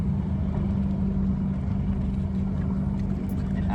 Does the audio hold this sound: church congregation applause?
no